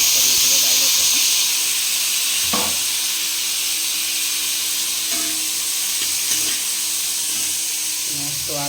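Tomatoes frying in a pan give a loud, constant bright sizzle and hiss, with occasional stirring clinks and faint voices in the background.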